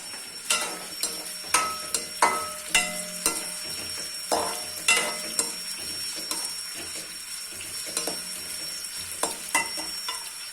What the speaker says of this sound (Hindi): प्याज को लाइट गोल्डन कलर आने तक फ्राई करेंगे।